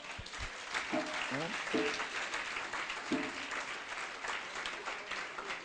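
A church congregation at a Sunday service applauds together in steady, dense clapping that lasts throughout, with some voices calling out over it.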